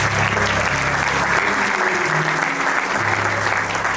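Steady, dense applause from a ceremony crowd honoring the 2022 Monroe County Sports Hall of Fame inductees, loud and sustained throughout with a low hum beneath.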